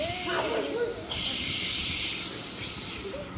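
A child imitates a snake's hiss in a second-class school rhyme activity, a breathy, sustained hiss that rises in the middle with faint voices around it.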